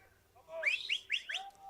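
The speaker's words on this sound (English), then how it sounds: "People are whistling at the gate saying, come on" Spectators at a show jumping arena gate whistle several short rising notes in a quick burst, faint and somewhat distant, with no speech over them.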